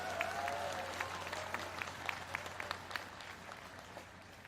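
An indoor audience claps after Roh Moo-hyun's homecoming speech in Gimhae, a dense, steady wash of applause with sharper individual claps standing out, heard from some distance.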